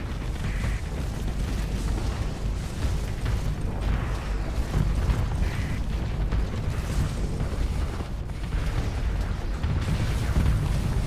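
Missile swarms meet flak in a Starsector space battle, with a dense, continuous rumble of explosions, repeated bursts and booms layered over one another throughout and no voices.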